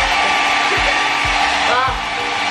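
A Kris 600-watt travel hair dryer runs close by with a loud, steady airy whir throughout the short stretch.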